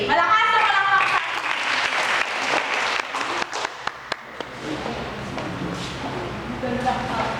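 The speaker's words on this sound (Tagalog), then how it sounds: "Sister Baby, malakas na palakpak sa" Applause from a chapel congregation during a pilgrimage gathering, starting under a voice and building into scattered sharp claps, then a fuller steady round; talk runs over the start.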